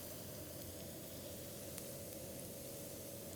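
Chopped shallots and fresh chilies sauté in hot oil for a Massaman curried rice, giving a steady, even sizzle that carries on unbroken with no voices over it.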